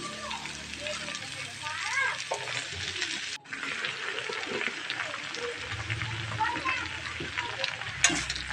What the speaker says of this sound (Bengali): এইভাবেই শাকটা একটু ভেজে ভেজে ভেজে ভেজে